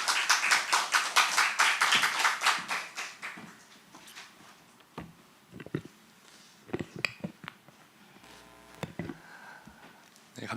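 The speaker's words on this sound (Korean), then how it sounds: "나오실 때에 은혜를 사모하는 마음으로 큰 박수로 맞이하시겠습니다" A congregation at a Wednesday church worship service claps to welcome a preacher, a burst of applause lasting about three seconds that fades into scattered taps and quiet room sounds.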